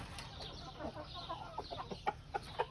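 Chickens and roosters at their morning feeding, scattered clucks and short calls from several birds nearby, growing more frequent and louder toward the end, with no talk.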